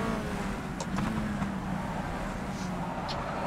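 A Peugeot 208 GTI Cup race car engine in rFactor 2 holds a steady, moderately loud drone with a sustained tonal hum and slight pitch shifts, running continuously with no voices.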